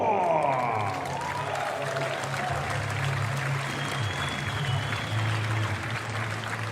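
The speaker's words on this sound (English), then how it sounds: "Give a round of applause and welcome to the stage" A crowd at a comedy show applauds and cheers as a performer is welcomed to the stage, a broad, continuous wash of clapping at moderate distance with a faint voice at the start.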